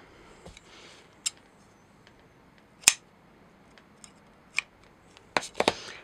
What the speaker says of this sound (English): now I'm going to cut my yarn here